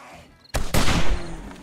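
Gunshots ring out at a creature in 7 Days to Die: two sharp, close reports a fraction of a second apart, each with a short reverberant tail.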